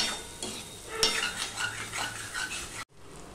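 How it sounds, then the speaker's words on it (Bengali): Tomato, ginger, salt and turmeric sautéing in a pan, a close, even sizzle broken by light clinks and scrapes of a spoon, then cutting off abruptly near the end. "এবার নুন হলুদটা দিয়ে টমেটো আদাটা দিয়ে আমি একটুখানি কষিয়ে নেব"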